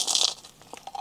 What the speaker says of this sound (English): Do you guys hear that crunch?